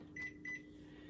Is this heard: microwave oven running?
yes